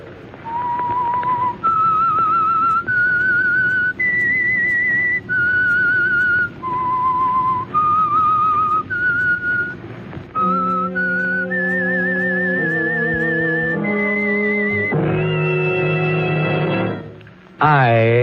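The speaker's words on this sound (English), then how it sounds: "That whistle is your signal for the Signal Oil" A lone whistler carries the eerie, wavering theme tune of The Whistler radio drama, first as a clear melody on its own, then joined by a full orchestral accompaniment that swells and ends abruptly.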